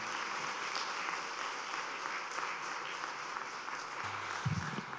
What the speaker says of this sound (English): Let's have another round of applause for all of our qualifiers.